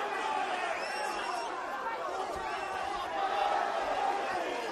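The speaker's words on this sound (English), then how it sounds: "The crowd again trying their best to raise it for him" Steady crowd noise from an MMA bout between Anderson Silva and Lee Murray, a continuous roar and babble of spectators rising slightly at moments, with a commentator talking over it.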